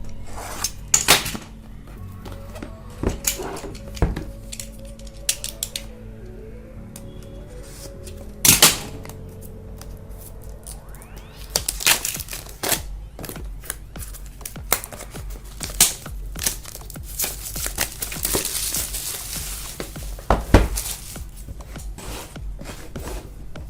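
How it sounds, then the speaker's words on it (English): A blade cuts the seal on a OnePlus Nord CE 4 phone box with close, sharp scratchy strokes, clicks and crinkly plastic rustling in irregular bursts. "Let me cut the seal."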